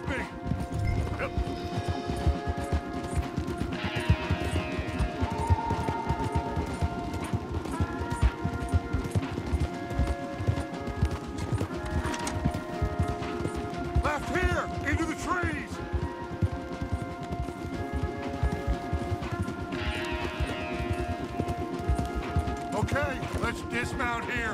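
Horses' hooves pound in a fast, steady gallop in Red Dead Redemption 2, amid game music and effects, with voices talking over the ride.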